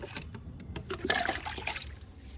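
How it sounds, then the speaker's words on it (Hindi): Water trickles slowly onto newly planted potted plants. It makes soft, uneven dribbling and splashing sounds, close by and fairly quiet, over a couple of seconds. "धीरे धीरे देना पड़ता पानी, अगर धार बना के देंगे तो ख़राब हो जाएंगे पौधे सारे।"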